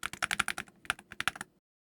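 Fingers type on a Veekos Shine 60 Hall Effect magnetic keyboard, producing a quick run of close, crisp key clacks in an uneven rhythm with a brief pause midway, then stopping into silence.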